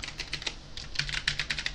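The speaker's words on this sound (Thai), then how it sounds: "พิมพ์ไปได้เลยคีย์บอร์ดตัวไหนเสียมันก็จะพิมพ์ไม่ขึ้นนะครับ" Keys on a computer keyboard are pressed one after another to test them, giving a quick, uneven run of close, light clicks and taps with short pauses, no voices present.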